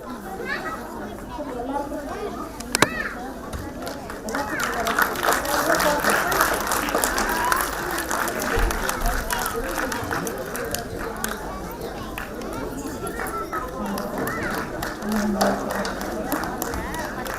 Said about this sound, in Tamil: உங்களின் பலத்த கரகோஷங்களுக்கிடையே